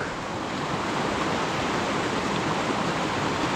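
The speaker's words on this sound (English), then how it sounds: "And this is the Sabaday Brook" Sabbaday Brook in New Hampshire rushes steadily near its waterfalls, a dense, continuous broadband roar of flowing water heard close and alone.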